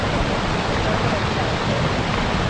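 A waterfall stream on the Garbett Point trek near Matheran flows like a small river. Its rushing, hissing roar is close and loud and holds steady throughout.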